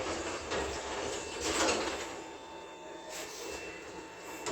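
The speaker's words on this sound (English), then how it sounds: "Doors opening." Traction lift doors at Richmond Town Centre, London, roll open with a steady, rattling mechanical rumble, a couple of louder clunks rising from the continuous whir.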